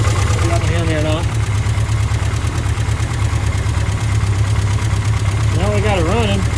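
1970 MG Midget engine idling steadily and loudly nearby with a low, slightly knocking throb, running for the first time in years, while someone speaks briefly over it.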